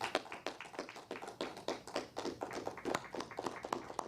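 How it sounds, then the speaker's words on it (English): Applause at a Joe Biden rally in Florida, a sparse, slightly irregular clapping that sounds like only a few hands, close and fairly quiet, with no voices. "Can you remind us what that applause sounded like yesterday, Shannon?"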